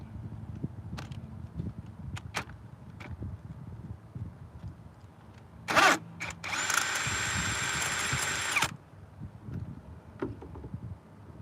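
A power tool removing a car's spark plug whirs in two bursts, a brief high-pitched spin followed by a longer steady buzz lasting a few seconds, with quiet clatter around it.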